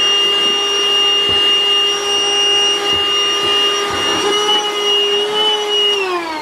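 A Hikeren cordless handheld vacuum cleaner runs with a loud, steady, high-pitched motor whine close up, and its pitch sags slightly near the end.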